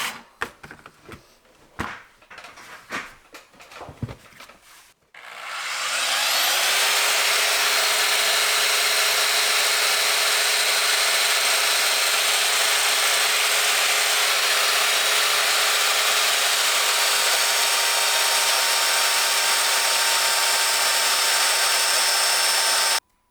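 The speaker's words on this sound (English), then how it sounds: "Let's get the belt sander fired up." A belt sander spins up after some brief handling noises and runs loud and steady for nearly twenty seconds, a continuous broadband whir with a steady hum, during work on a 2002 Honda XR400 motorcycle project.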